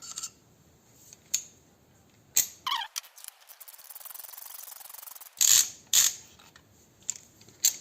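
A ratchet wrench works loose a spark plug on a Seat León engine, giving several short, sharp clicking bursts spaced irregularly with a longer buzzing stretch in between, close and fairly quiet.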